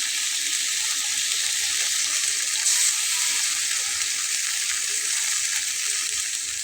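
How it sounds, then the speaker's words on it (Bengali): Water poured into a pan of sizzling vegetarian curry that has green chili in it, giving a loud, steady hiss and sizzle that holds evenly throughout with a brief swell partway in. "এরপরে আমি এর সঙ্গে পানি অ্যাড করব।"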